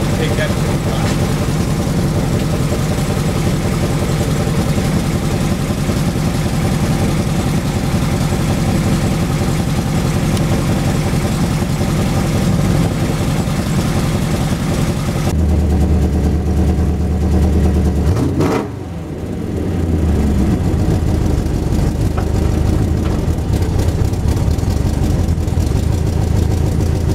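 An MGB fitted with a V8 runs steadily at close range, a continuous loud engine drone with a brief dip and shift in tone partway through.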